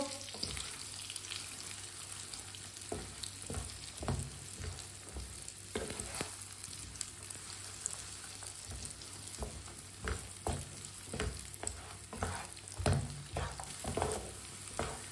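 Eggs fry in a pan while a spoon stirs them, giving a steady quiet sizzle with frequent scraping and tapping strokes at an irregular rhythm, close up and without speech.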